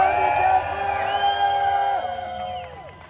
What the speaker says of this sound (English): You can cheer more if you'd like.